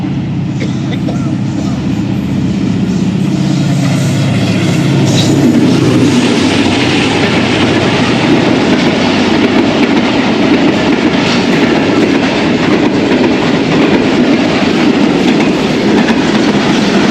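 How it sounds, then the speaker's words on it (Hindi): Pak Business Express overtaking at Jalal Marri station, a loud, steady close-range rumble of rolling rail cars with continuous clickety-clack and faint wheel squeal throughout. "अब पाक बिज़नेस एक्सप्रेस 9 अब को ओवरटेक करते हुए जलाल मरी स्टेशन पर।"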